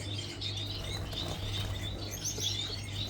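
Gouldian finches in an aviary of roughly sixty pairs give frequent high, thin chirps and tweets over a constant low hum, with occasional fluttering.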